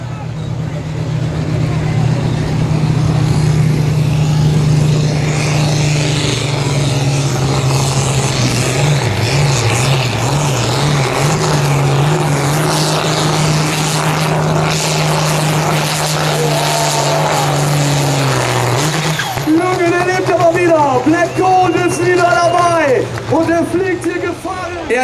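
A sport tractor roars through a farm tractor pulling run at Edewecht, its loud engine droning steadily and changing pitch as it pulls, with an announcer speaking over it throughout.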